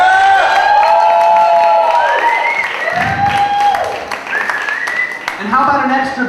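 Concert audience cheering and whooping with scattered clapping after a live show, loud and continuous, with shouts and high voices rising above the crowd throughout.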